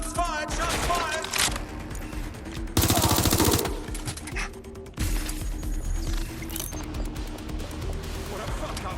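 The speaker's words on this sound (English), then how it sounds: "Shots fired! Shots fired! Shots fired!" Gunfire in the video game Watch Dogs: Legion, with loud bursts of rapid shots and heavy blasts mixed with game music and effects, while voices shout over the action.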